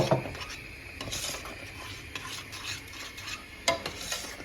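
A spoon scrapes and stirs cream with sugar in a pot with irregular strokes, occasional louder clinks against the metal, and a faint sizzle underneath.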